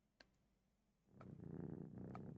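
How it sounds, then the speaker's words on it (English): A cat purrs in a video game, a soft, low rumbling purr starting after a second of near silence and a faint click, continuing quietly to the end. "There's a cat!"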